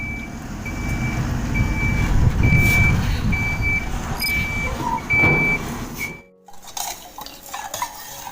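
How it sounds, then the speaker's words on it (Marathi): A truck delivering laterite stones rumbles close by with an evenly spaced high reversing beep sounding about ten times, then the engine cuts and the scene goes quieter, leaving faint background sounds. "हे बघा गाडी आली आपली चिऱ्यांची."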